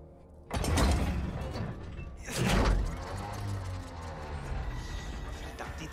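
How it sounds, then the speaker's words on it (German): An engine is cranked in the World War I game Battlefield 1, with a fuel line leaking: two heavy mechanical clanking bursts followed by a rough, sputtering rattle that settles to a steady grind, with no talk. "starte den Motor."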